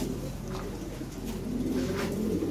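Lahori pigeons kept in a pen give soft, low cooing calls, a few gentle rolling coos close by, faint against a quiet background.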